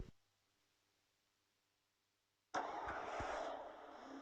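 Car engine starting in the Free Fire video game: near-silence gives way to a sudden loud engine roar that settles into a steady running hum, with no talking.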